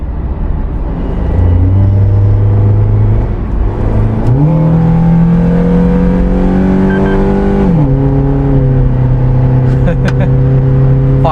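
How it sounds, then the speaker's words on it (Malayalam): A Suzuki Jimny engine fitted with a BMC air intake and ECU remap rises from a low drone to a louder rev, holds high for several seconds, then drops back down, close and loud throughout. "എയർ ഇൻടേക്ക് ശബ്ദം കേട്ടാ അതാണ് ചേഞ്ച് വന്നിരിക്കുന്നത്"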